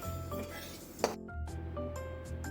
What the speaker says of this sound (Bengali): এই অবস্থায় আমি ডালটাকে এবার একটা অন্য পাত্রে ঢেলে বারবার জল পাল্টে পাল্টে ডালটাকে ধুয়ে নেব